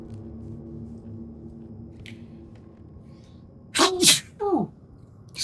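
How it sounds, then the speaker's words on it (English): Loud, close sneeze from a character in the Alan Wake 2 video game, a sharp double burst followed by a shorter third, after several seconds of quiet low ambient hum. "Another infamous sneeze."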